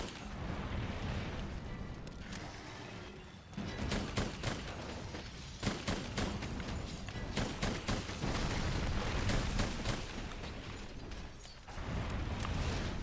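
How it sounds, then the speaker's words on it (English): Bowgun fire against Lunastra in Monster Hunter World, a dense run of loud, rapid shot bursts with booming impacts and explosions over a continuous roaring battle din, with only brief dips in the barrage. "that's great damage when you shoot her in the tail"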